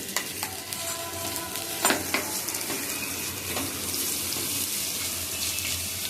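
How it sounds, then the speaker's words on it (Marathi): Masala paste for stuffed brinjal sautéing in a pan, a soft sizzle under clinks and scrapes of a spoon, fairly quiet and close, with a few louder knocks and no talk. "छान परतून घेऊया वाटणाचं."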